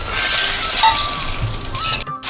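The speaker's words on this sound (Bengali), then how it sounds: "আর কালি জিরা ফোড়ন দিলাম" Bay leaf, whole dried red chili and nigella seeds temper in hot oil for a Bengali fish curry. A close, loud sizzle carries a few clinks of a utensil and ends in a brief quieter moment.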